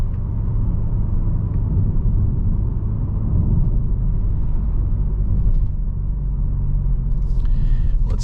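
Steady cabin rumble and road noise inside a 2025 Kia K5 GT rolling over uneven, imperfect pavement, a constant low drone with soft bumps and a faint rattle near the end, no talking.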